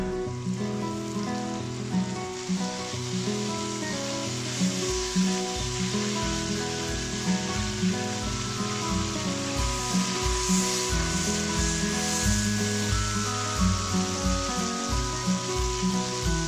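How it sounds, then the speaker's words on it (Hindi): Tomato puree hits a hot pan for chicken angoori, setting off a steady, crackling sizzle that carries on continuously over faint background tones, with no one talking. "अब हम डाल देंगे टमाटर प्यूरी।"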